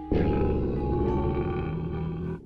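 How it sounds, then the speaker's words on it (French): A lion roars in a wildlife documentary playing on a TV, one long sustained growling roar that stays loud and steady for over two seconds before cutting off, with no voices over it. "Ne me dites pas que vous avez un lion à la maison."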